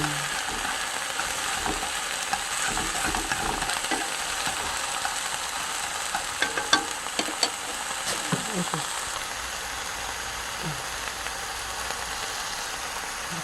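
Green onion oil sizzles in a pan while being made for grilled dried pollock, a steady frying hiss with scattered crackles and pops, fairly close, continuing throughout.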